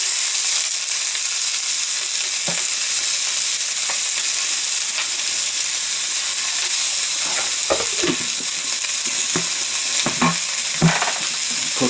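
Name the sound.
spicy chicken frying in a hot pan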